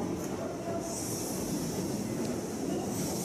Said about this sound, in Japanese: これはこのまま泉岳寺の方に向かう電車だと思います。